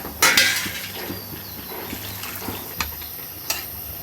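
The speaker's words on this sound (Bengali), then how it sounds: "সিদ্ধর জন্য পানি দিয়ে দিলাম" Water poured into a pot of browned chicken set to boil, a brief splash and trickle followed by quiet clinks of pots and utensils, close and without speech.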